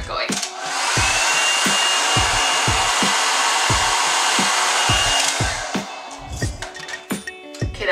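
A hot-air blower styling hair roars steadily and loudly for about five seconds before cutting off, over a repeated ticking beat, then gives way to softer clicks and handling noises.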